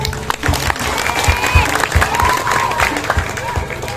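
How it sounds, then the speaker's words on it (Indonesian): Audience applause at a traditional Balinese Drama Gong performance, loose clapping from a crowd with some cheering, voices and whistle-like tones mixed in, loud and close with uneven bursts. "Tepuk tangan."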